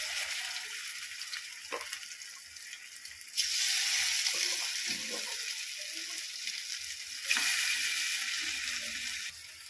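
Murrel fish frying in oil in a pan, a steady broadband sizzle that surges louder twice as pieces are added, with faint clinks beneath and no talk.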